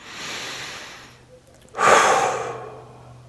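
Deep breathing during a guided meditation: a long, airy exhale, a pause, then a louder, fuller breath rushing in, close and alone with no talking.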